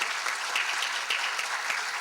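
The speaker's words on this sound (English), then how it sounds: "Let's give that a round of applause." A conference audience gives a round of applause, dense steady clapping from many hands that holds at an even level throughout.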